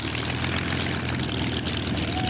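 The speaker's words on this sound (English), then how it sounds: "Taxiing out now, ladies and gentlemen, Ray Hanna in MH434" A Spitfire MH434 warbird taxis out at an airshow, its piston engine running as a steady low propeller drone. The sound holds at a constant level throughout, with faint crowd or announcer noise mixed in.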